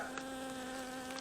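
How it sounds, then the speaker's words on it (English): A single bee buzzing close around a beekeeper at an open beehive, a steady droning hum, fairly faint and with no talking. "Got a bee buzzing around me."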